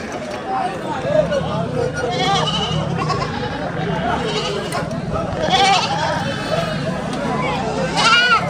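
Seventeen goats, being loaded onto a van after a market, bleat repeatedly in overlapping calls, close and loud, while people talk nearby.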